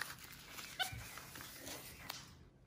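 A puppy whimpers in short, faint yips near the start and again just after two seconds, over low background rumble in an indoor setting.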